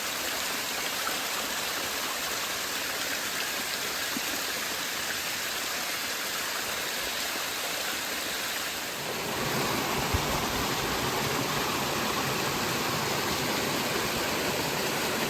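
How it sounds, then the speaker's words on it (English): Rushing water of a waterfall cascading down a steep hiking trail on the climb up Mount Lafayette, a steady broadband roar that grows louder and fuller partway through, with no talk. "that's the trail, and it is literally a waterfall"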